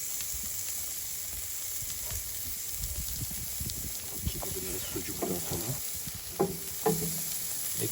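Sucuk (Turkish sausage) meatballs sizzle and crackle steadily in a hot cast iron pan, with a few sharper pops and faint background voices now and then.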